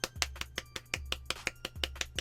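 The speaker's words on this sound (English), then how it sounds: "golf clap." A polite golf clap: about a dozen light, sharp claps at a steady, fairly quick rhythm, close and clear with nothing else around them.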